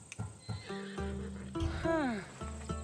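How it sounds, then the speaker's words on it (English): A horse in Assassin's Creed Odyssey gives a clear, wavering neigh that rises then falls. Soft hoof clops and a low game ambience run beneath it, close and fairly quiet. "That horse is from Thessalonia, bred for its courage."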